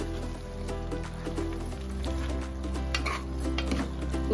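Coriander and curry leaves being stirred into a pan, with soft scraping and light clinks of a utensil against metal over a gentle sizzle, close and quiet at a steady pace.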